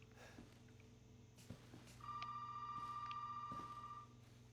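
In the Resident Evil 7 video game, a telephone rings once with a sustained electronic tone lasting about two seconds, heard over faint ambient hum and a few soft clicks.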